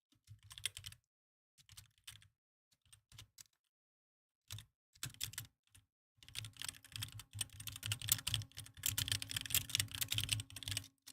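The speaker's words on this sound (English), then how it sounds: "Y'all like the little keyboard ASMR there?" Computer keyboard typing, scattered close key clicks at first, then a dense flurry of rapid keystrokes alongside a faint steady background hum.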